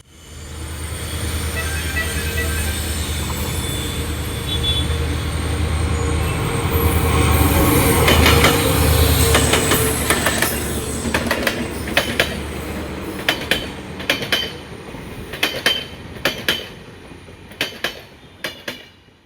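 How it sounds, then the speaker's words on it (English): A train hauled by a WDP4 diesel locomotive, the Golgumbaz Express, builds from a distant rumble to a loud close pass, then rattling wagons with sharp wheel clicks and clatter as the coaches roll by. "16535 Mysuru Pandarpur Golgumbaz Express KGM WDP 40"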